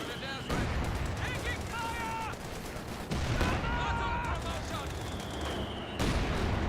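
Gunfire and shots in a Company of Heroes 2 battle, with sharp reports and a couple of heavier bangs over steady combat noise, while a commentator speaks throughout.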